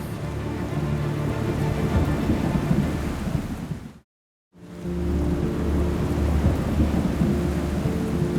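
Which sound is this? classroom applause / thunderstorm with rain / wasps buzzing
thunderstorm with rain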